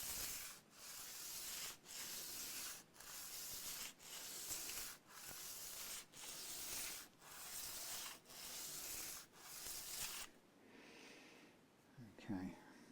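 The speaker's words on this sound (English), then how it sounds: "So I'm going to now concentrate on doing it on the finer sandpaper." Guitar setup work on fine sandpaper gives rhythmic back-and-forth sanding strokes, about one per second, close and loud, ending in a quieter stretch with some faint handling noise.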